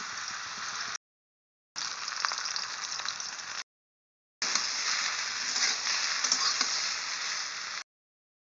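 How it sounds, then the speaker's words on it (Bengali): Sweet pulla fish fries in a pan with a steady bright sizzle, heard in three stretches broken by abrupt silent gaps. "কেটে নেওয়া হয়ে গেছে, এবার ভেজে নেব।"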